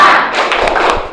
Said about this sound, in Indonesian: Coba tepuk semangat.